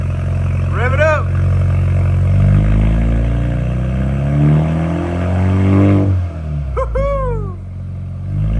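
A 2.3L Ford Bronco with an SPE Motorsport axle-back exhaust revs in rising and falling sweeps, loud and close, while excited voices talk and whoop over the engine.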